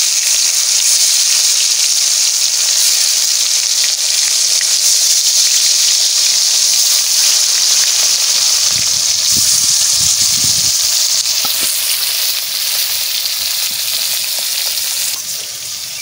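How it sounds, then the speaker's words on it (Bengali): Pieces of boal fish drop into hot oil and fry with a loud, dense, hissing sizzle that holds steady, then eases slightly near the end. A few faint knocks sound underneath, and no one speaks. "তেলটা গরম হয়ে গেছে, এবারটা আমি মাছ ছাড়বো।"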